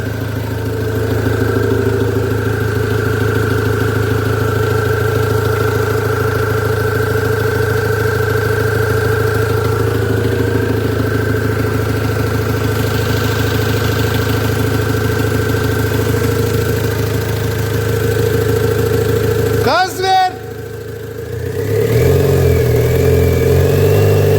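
An Opel Vivaro van engine idles steadily up close, a loud constant rumble, with a brief disruption near the end before the engine note shifts.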